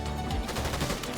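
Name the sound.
Lawless Stink Rifle gunshots in Fortnite video game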